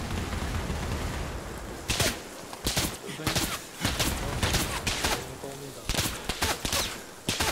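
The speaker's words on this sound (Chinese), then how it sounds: "我看枪声来自这附近" Gunfire in the military shooter game ArmA: sharp bursts and single shots crack out repeatedly in irregular clusters, some loud and close, over a constant background hiss, with players talking over the shooting.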